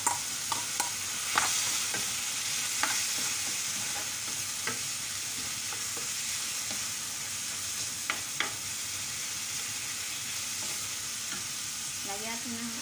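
Shrimp and vegetables with white onion sauté steadily in a pan with cream, giving a continuous soft sizzle, punctuated by occasional light clicks and scrapes of a stirring utensil against the pan.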